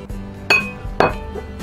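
Kiwis and blackberries are stirred together for a dessert, with a metal utensil striking a bowl in two sharp, ringing clinks amid soft scraping. The sounds are close and distinct, and there is no talk.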